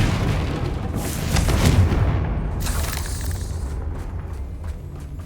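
A Confringo spell explodes in the Hogwarts Legacy video game, a loud, close booming blast that swells and rolls for a couple of seconds before fading into a low rumble.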